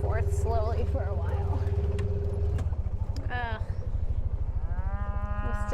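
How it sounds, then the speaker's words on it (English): Cows and calves moo on a cattle ranch as young calves search for their mothers, with several calls near and far, one long moo at the end, and a low engine rumble underneath. "Still a lot of calves that don't have a cow"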